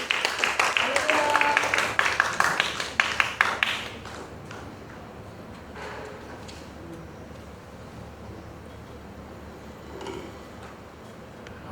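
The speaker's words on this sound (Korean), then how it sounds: "다 같이 환영하는 박수로 올리겠습니다." Audience at a church revival meeting gives a welcoming round of applause, loud and steady for about four seconds before fading into a quiet room with faint murmurs.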